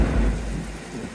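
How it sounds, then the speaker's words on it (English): Thunder rolls as a dull, low rumble during a coastal sailing passage from NSW to Queensland, a steady wash of noise across a short stretch with no talking. "there goes thunder!"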